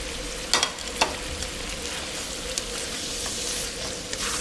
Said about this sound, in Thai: ก็ผัดให้เข้ากัน